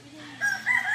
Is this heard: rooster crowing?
yes